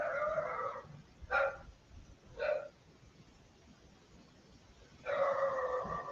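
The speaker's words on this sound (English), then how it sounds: "That's my dog barking." A dog barks several times at moderate distance: a longer bark burst at the start, two short sharp barks around the middle, then another sustained bark at the end, with quiet room noise between and no talking.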